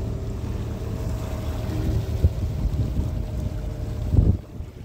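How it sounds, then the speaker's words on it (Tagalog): Strong wind buffets the microphone at sea with a low rumbling roar, occasional thumps and gusts over steady background noise. "malakas ang hangin"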